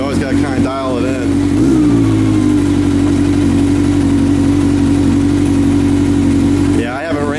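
A 1991 Honda Nighthawk 750 motorcycle engine runs steadily with the choke fully off, a loud, close, even idle hum after a brief rev near the start, with a voice speaking over it.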